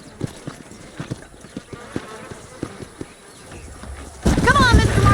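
Horse hooves clip-clop at a steady, evenly spaced rhythm in the Red Dead Redemption video game, fairly near, with game speech over them before a louder burst of ambient sound near the end.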